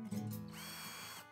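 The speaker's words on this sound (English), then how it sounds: "Then I drill pilot holes with a self-centering bit and put in the screws." A power drill with a self-centering bit bores pilot holes for piano hinge screws on a small wooden storage box, a close, steady whirring burst that winds down near the end.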